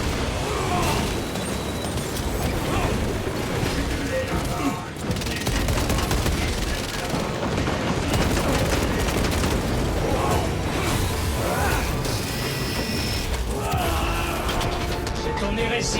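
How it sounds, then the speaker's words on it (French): In the Warhammer 40K: Space Marine 2 video game, a frag grenade explodes amid continuous loud gunfire, booms and crashing battle noise, dense and close throughout with occasional voices mixed in. "Je lance une grenade crack."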